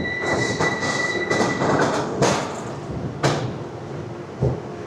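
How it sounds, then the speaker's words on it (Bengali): Glacier Express train rolling along its rails in Switzerland, a steady loud rumble of wheels with sharp clanks and knocks from the rail joints and a faint high squeal, no talk. "স্থানীয় সময় দুপুর 1:45 ছেড়ে দিল আমাদের ট্রেন।"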